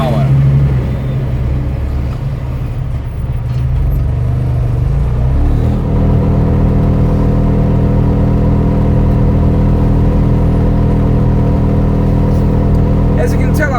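A Bajaj Qute quadricycle's small engine drones loudly and steadily while climbing a hill at about 45 km/h, its pitch settling into a constant strained hum, with a voice talking over it.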